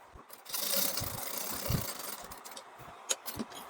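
Sewing machine stitching uniform trouser fabric, a short close motor run of under a second followed by quiet handling clicks and rattles.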